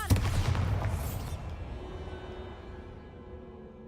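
Bombarda explosion spell in Hogwarts Legacy, a sharp boom at the start that rumbles and fades away over a few seconds.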